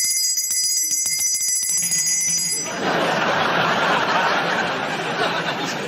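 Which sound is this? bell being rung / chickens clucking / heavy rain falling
bell being rung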